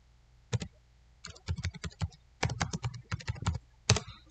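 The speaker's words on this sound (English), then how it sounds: "I'm going to click on that and just type in anything." Typing on a computer keyboard to enter a prompt, heard as clear close key clicks in irregular clusters with short pauses, quiet and with no talking.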